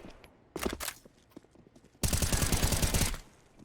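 Counter-Strike (CSGO) gunfire rings out in a short burst of shots, a pause, then a longer sustained volley of rapid automatic fire, loud and close.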